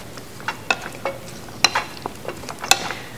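Seasoned chicken pieces being stirred and tossed by hand in a bowl, a run of soft irregular wet clicks and squelches, close and fairly quiet, with no talking.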